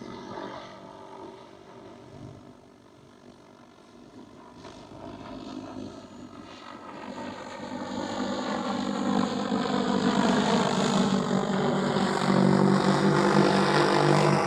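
An XAG agricultural drone climbs back to cruising height after a sling lift and flies back: a steady, buzzing propeller whine grows louder and richer over time, alone with no talk.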